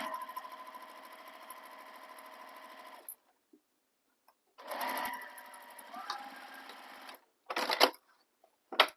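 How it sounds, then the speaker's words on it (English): Sewing machine stitching down the side edges of a handbag pocket: a steady motor run of about three seconds, a pause, then another sustained run and short bursts of stitching, close and clear. "Now I'm just going to stitch down the side edges of the pocket only."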